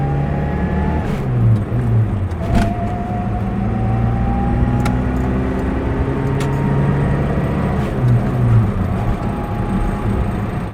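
A 1980s Datsun Cherry drives along the road, its engine droning steadily from inside the cabin with rising and falling whine as it changes gears, under road noise.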